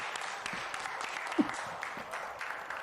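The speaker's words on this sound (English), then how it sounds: "There's a clap." Faint clapping from a distant group as the UAE Hope probe reaches Mars orbit, a soft steady patter with one brief louder knock near the middle.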